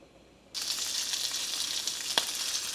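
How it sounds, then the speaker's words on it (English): Chorizo hits hot olive oil in a pan, and a sudden loud sizzle bursts in after a quiet start and holds steady, with one sharp utensil tap near the end. "I'm gonna go ahead and add the chorizo to the pan."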